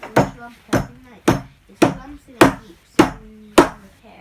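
Seven sharp, evenly spaced whacks ring out as a timber frame door joint is hammered together, each loud knock on solid wood followed by a short decay, with no talk between strikes.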